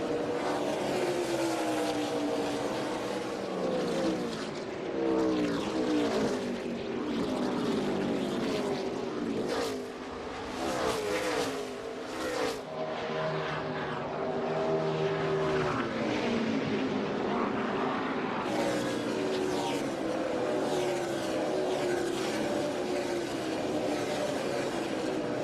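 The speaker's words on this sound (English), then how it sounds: "We're going to go silent and watch Justin Haley command the 11 on lap 11 at Iowa Speedway." NASCAR Xfinity race cars lapping Iowa Speedway, a continuous loud engine roar with passing cars swelling and fading throughout, no talking.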